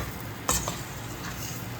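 Prawns fry in a pan for curry, a steady soft sizzle with a sharp utensil clink against the pan partway through and lighter stirring scrapes after.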